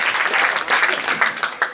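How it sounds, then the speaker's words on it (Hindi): Audience applause at a Hindi poetry gathering in Jaora, a short burst of dense clapping from a crowd, fairly loud and continuous, tapering at the end. "एक बार अच्छे से ताली हो जाओ मन में।"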